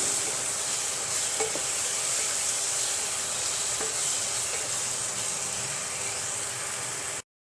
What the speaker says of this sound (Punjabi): ਚੰਗੀ ਤਰ੍ਹਾਂ ਆਪਾਂ ਇਹਨੂੰ ਹੁਣ ਹਿਲਾ ਕੇ ਇਹਨੂੰ ਚੰਗੀ ਤਰ੍ਹਾਂ ਪਕਾ ਲਵਾਂਗੇ ਮਸਾਲਿਆਂ ਨੂੰ